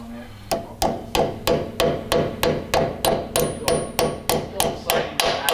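A small hammer strikes a clip repeatedly during Jeep steering repair, in a steady rhythm, about a dozen sharp metallic blows, close and fairly loud.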